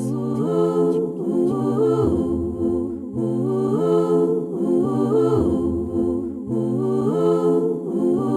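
Several sung voices layered on a loop station, stacked in sustained harmony, repeating in a steady looped cycle of chords, loud and close.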